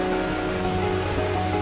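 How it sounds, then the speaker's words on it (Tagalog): Heavy rain pounds steadily on a rooftop, a dense, loud and continuous hiss of water with no break and no voices. "Grabe yung ulan."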